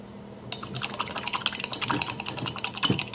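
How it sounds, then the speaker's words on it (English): Close, rapid scrubbing and splashing of a brush swished in water, a busy irregular rhythm that starts abruptly and continues steadily. "Clean my brush off, just get some water on it."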